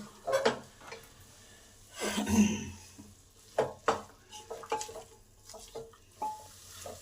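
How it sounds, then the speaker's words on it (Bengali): Potatoes stirred into a cooked spice masala in a pan for ghugni: intermittent scrapes and clatters of a spatula against the pan, with soft sizzling between strokes, fairly quiet overall. "আলুগুলোকে 2 মিনিট কষে নেব।"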